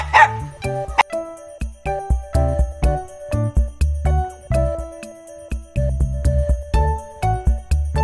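A puppy barking in a series of short, sharp yips and barks in an irregular rhythm, close and fairly loud with brief pauses between bursts, and no talking.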